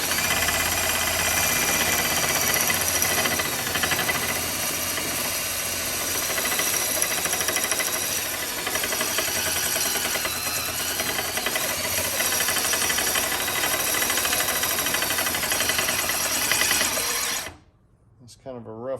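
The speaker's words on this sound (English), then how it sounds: "I'm going to try to file down the clutch facings on here a little bit" A DeWalt drill spins the mag clutch facings of a Brunswick pinsetter while a rough file rasps against them, making a loud, steady whirring grind that runs nearly unbroken before cutting off abruptly near the end.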